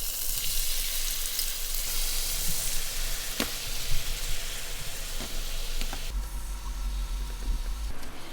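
Sauce sizzles steadily in a hot pan with golden-browned corn for a maple salmon meal, a loud continuous frying hiss with occasional stirring scrapes and no voices.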